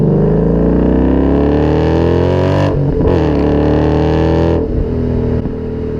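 A 2012 Ford Mustang Boss 302, a street-legal track car, revs its engine hard in a loud, continuous snarl whose pitch climbs steadily, with brief dips near the middle and end. No one speaks.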